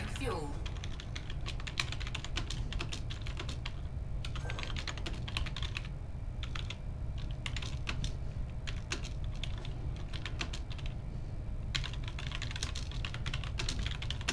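Rapid clicking keystrokes on a computer keyboard come in bursts over a steady low hum, close and continuous.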